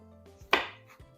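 A knife slices a lemon in half, producing one crisp, close chopping thud against a cutting board with a brief wet crunch, surrounded by quiet room tone.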